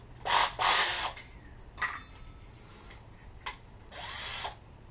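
A stubby drill drives screws into wood for fire pit planter boxes with benches, giving two strong whirring bursts, then several short spins and a final longer whir.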